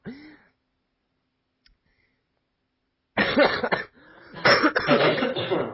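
A short voiced sound at the start, then two loud bursts of coughing close to the mic, the second longer and rougher.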